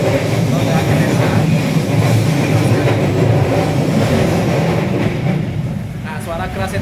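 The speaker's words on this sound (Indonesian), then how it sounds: "Nah, suara keras itu ditimbulkan oleh interaksi antara roda kereta dengan rel paksa." Loud, continuous rumble and grinding of train wheels against the rails on a curving, hilly line, heard from inside a moving passenger train, with a steady clatter and faint squealing tones, easing off slightly near the end.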